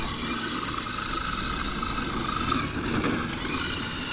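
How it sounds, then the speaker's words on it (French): A steady engine drone holds at constant revs throughout, with a continuous broadband rumble and no pauses or changes in pitch. "t'entends le moteur comme il mouline sans arrêt"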